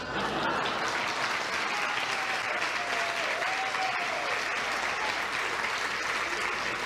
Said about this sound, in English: See, why didn't you want to clap for her?